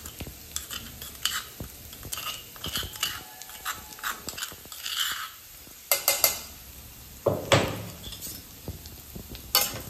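Garlic and green chilli being stir-fried with crushed raw peanuts in a pan, giving a steady low sizzle broken by scraping spatula strokes and sharp clinks against metal, close and fairly loud, with no talk.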